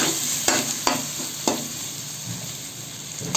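Two eggs sizzle steadily in a hot pan while chicken fried rice is being made, with a few sharp scraping stirs near the start over the constant frying hiss.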